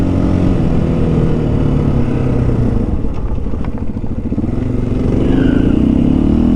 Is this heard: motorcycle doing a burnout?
yes